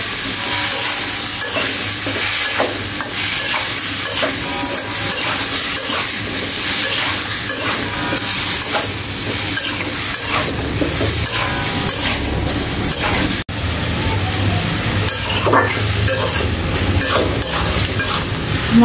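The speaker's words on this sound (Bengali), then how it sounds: "মশলার সঙ্গে এখন ভালো করে কষিয়ে নেব।" Spices and ginger-cumin paste stir-fried in a pan, a steady loud sizzle with scraping stir strokes running throughout, no voices over it.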